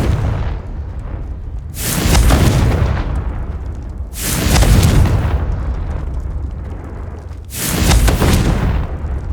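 Three heavy booming blasts from the Confringo fire spell in Hogwarts Legacy, each a loud broadband burst rolling off into a rumbling tail, spaced roughly three seconds apart over a steady game ambience.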